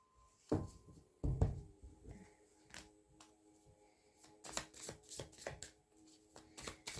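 Playing cards are shuffled and drawn by hand, a series of sharp papery flicks and riffles at close range, louder bursts early then quicker clustered snaps near the end, with no talking.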